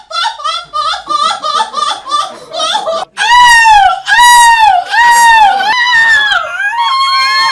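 A voice imitates a seagull screech at a seagull screeching championship in a small cafe, first a run of quick chattering calls, then long loud wailing screeches that rise and fall, close and alone.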